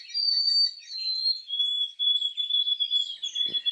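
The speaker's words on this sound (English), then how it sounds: "the whitethroats have a thin, high-pitched monotone of a song" A white-throated sparrow gives a thin, high-pitched whistled song. It holds long, steady, nearly level notes that step slightly lower and sound clear and fairly close, with no talking.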